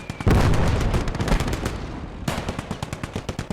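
Heavy weapons fire on the Eastern Front in the Gates of Hell video game: a loud, close tank cannon blast from a Panzer rolls into rapid machine-gun bursts, followed by another sharp report and continued rattling fire.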